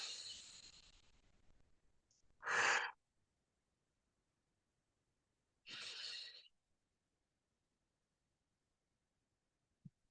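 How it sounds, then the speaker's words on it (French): Slow breaths in and out during a relaxation exercise: two distinct breathy exhalations a few seconds apart, close and soft, separated by near silence. "on va inspirer en montant, on va expirer en descendant."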